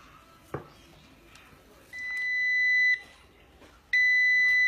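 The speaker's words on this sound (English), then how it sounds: "That's the machine beeping to tell me that hour is up and it's ready" An electronic butter-making machine gives two long, high-pitched beeps when finished, separated by a pause, loud and close against a quiet background with a faint clunk before.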